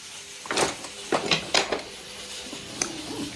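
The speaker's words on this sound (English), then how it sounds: "I need a spoon to stir" A spoon stirring a pot of Jamaican rice and peas gives several sharp metallic scrapes and clinks in a short irregular burst, close by, with quiet gaps between them.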